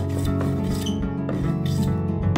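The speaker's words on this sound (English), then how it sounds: "I'll chamfer the cutting to prevent it from chipping when something hits." Hand chamfering along the cut edge of a wooden winder-stair tread in Japanese woodworking, a steady close rasping rub that continues throughout with no talk.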